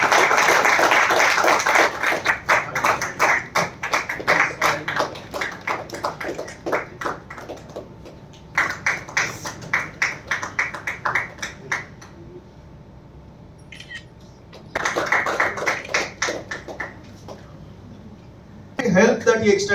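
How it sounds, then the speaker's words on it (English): Audience applause at an Indian Red Cross Society felicitation of COVID volunteers in Goa, coming in several bursts of crowded clapping separated by pauses, with voices in the background. "I think we can clap a little bit more"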